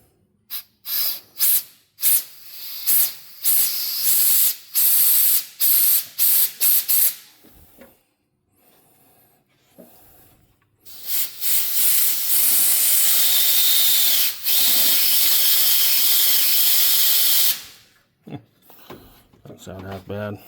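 Compressed air hose blasting into a 1984 flatbed truck, loud hissing bursts in short spurts at first, then a long sustained blast, with a person talking in between.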